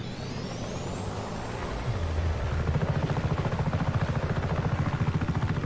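Helicopter in the Just Cause 3 video game, its rotor beating in a fast steady thump that grows louder and more pronounced as it spins up, with no speech.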